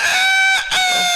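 A man imitating a rooster's crow with his voice, a single loud, close, drawn-out cock-a-doodle-doo with a brief dip in the middle, heard alone.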